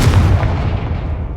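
A Confringo blasting curse goes off in Hogwarts Legacy as a single loud, close booming blast with a heavy low rumble that fades out over a second and a half.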